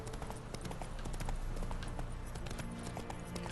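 Horse hooves clop along a path in the Witcher 3 video game, a steady, even rhythm of repeated hoofbeats at moderate loudness with faint game ambience underneath.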